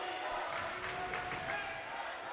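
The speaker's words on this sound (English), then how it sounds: "as it's the Eagles fans' turn to cheer on their team" Los Altos Eagles fans cheering at a high school volleyball match in a gym, a faint steady crowd roar with scattered shouts and claps, broadcast commentary talking over it.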